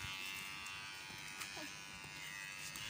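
Electric clippers shave a pet's thick fur, giving a steady, close buzzing hum that runs throughout, with people talking faintly underneath.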